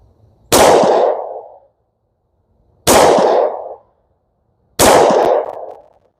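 Three loud 10mm pistol shots fired with CCI Blazer aluminum-case ammunition, evenly spaced about two seconds apart, each a sharp crack with a short ringing tail, and silence between.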